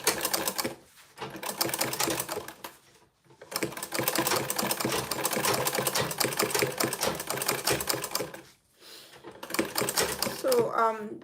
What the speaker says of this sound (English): The way I'm sewing it, because by the time we finish, I wouldn't want the stitches to be seen.